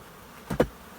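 Honey bees at an open hive give a brief, close buzz that swells and fades within a fraction of a second over a faint background hum.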